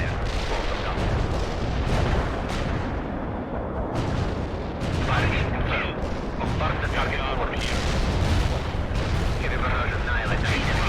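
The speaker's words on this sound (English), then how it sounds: "Well, let's just do a bunch of artillery strikes." Heavy booms and rumbling blasts of an artillery barrage in the video game World in Conflict, dense and continuous with overlapping impacts, while someone talks over the explosions.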